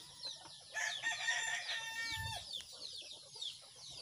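Chickens cluck and squawk busily around a farm coop early in the morning, mostly up close, with a rooster's crow mixed among the excited calls and no clear talking.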